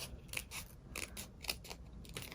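Scissors snip through iron-on vinyl for personalizing tennis shoes, giving about eight crisp, close cuts in a quick uneven rhythm, fairly quiet, with no speech.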